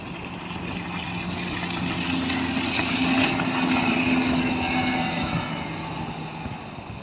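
A boat with a 90 horsepower Optimax outboard motor cruising on a maiden voyage, a steady continuous engine drone with water rush, fairly loud and unbroken, no talk.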